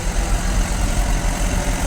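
A vintage Massey Ferguson tractor engine runs steadily during a tractor parade in a show's main ring, a loud, continuous low rumble with an even idle throb and no speech.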